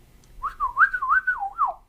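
A person whistles a warbling, up-and-down melodic phrase imitating the way Banjo-Kazooie game characters talk. It is close and clear, alone, lasting about a second and a half.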